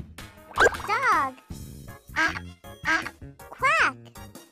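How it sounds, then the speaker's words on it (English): A duck quacking in a children's English animal-sounds lesson: a handful of distinct, nasal quacks in uneven bursts, clear and up close, with no talking over them. "A duck makes a quack sound."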